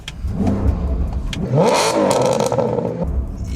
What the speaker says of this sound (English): the engine is coming to life when I've touched that throttle pedal